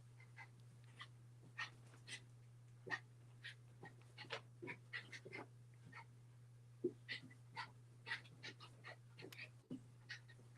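A dog pants in quick, soft bursts close by, with faint whimpers and breaths, fairly quiet, over a steady low hum and occasional light movement.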